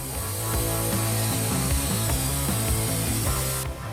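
A sawmill cutting logs for a log post and beam house build grinds on loudly and close, its steady mechanical drone carrying a rapid ratcheting, clattering rhythm until it cuts out abruptly near the end, with no talking.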